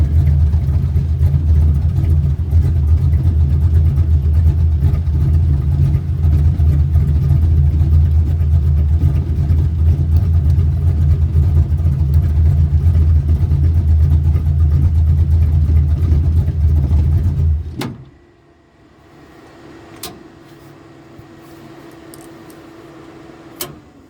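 Engine of a 1966 Toyota Stout truck roaring loudly and steadily for a burnout test, a thick low drone held for about eighteen seconds before cutting away abruptly to quiet background noise.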